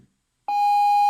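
A Motorola GP300 radio emits a single steady electronic beep after its push-to-talk is pressed, clear and close, sounding alone after a brief silence.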